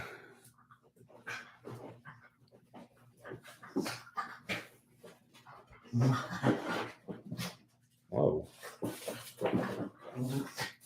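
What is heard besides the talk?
dogs play fighting and whimpering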